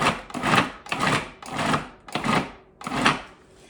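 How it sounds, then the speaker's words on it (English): A food processor pulses a curry chicken salad mixture in five short, even bursts of whirring grind, each about half a second long with brief gaps between, close and fairly loud. "I'm going to pulse it. There's a pulse button on a food processor, probably about 10 times"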